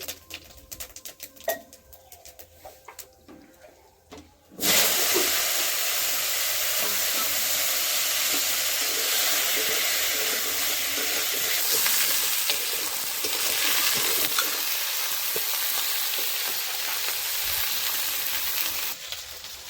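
Whole cumin seeds and vegetables drop into hot oil left from frying foli fish. After a few quiet seconds, a loud, steady sizzle bursts up and keeps hissing close by.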